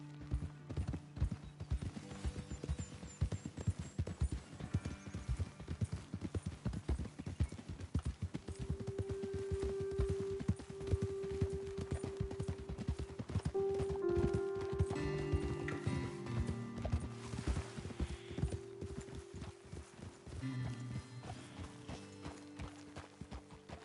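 Horses' hooves clip-clop in a steady trotting rhythm in the video game Red Dead Redemption 2, fairly quiet, with occasional mechanical creaks and a faint tonal hum in the background.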